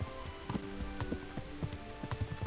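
Horse hooves clip-clop at a steady walking rhythm in Kingdom Come: Deliverance, about two clear strikes per second, close and moderately loud over a faint hiss of rain.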